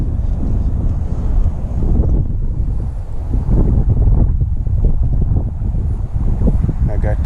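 Wind gusting across a fishing boat out on open water, a loud buffeting rush hitting the microphone continuously, with faint water sounds underneath and no clear talk.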